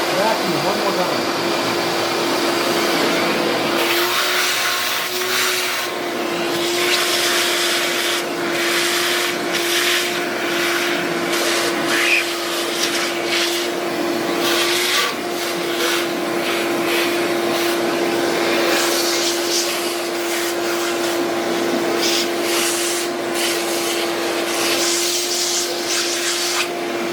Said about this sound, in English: Vacuum one more time.